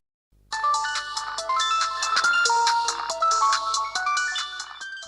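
A phone ringtone announcing an incoming call plays a repeating electronic melody, loud and close, continuing steadily for several seconds with no talk over it.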